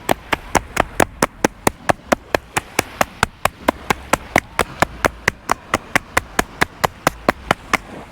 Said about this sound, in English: You're gonna tap it, about 10 seconds.